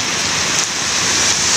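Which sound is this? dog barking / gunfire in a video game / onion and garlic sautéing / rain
rain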